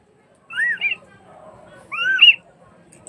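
A covered pot of volva mushrooms whistles as it cooks, giving two short, clear rising-and-falling whistles about a second and a half apart over a quiet background.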